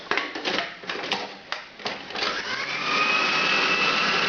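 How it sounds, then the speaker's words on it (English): A food processor whirs and chops pork chop stuffing with mustard added, starting in choppy bursts and then settling into a loud, steady, close grinding drone, no talking. "now I'm going to take this for a spin in the food processor"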